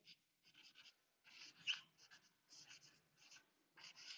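Short scratchy strokes of writing on a board while a differentiation problem is worked out come in quick irregular bursts with pauses between them, faint and close, with no voices.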